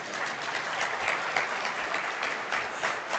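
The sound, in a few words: audience applause at a conference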